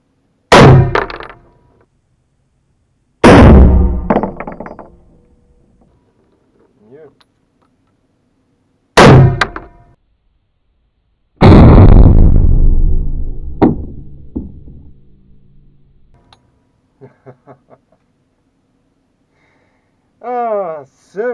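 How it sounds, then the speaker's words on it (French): Four loud rifle shots from a Hakim semi-automatic rifle chambered in 8x57 IS ring out one at a time at uneven intervals, each a sharp blast trailing a long echoing decay, with a few faint metallic clinks between them and speech at the very end. "on est reparti pour deux tirs"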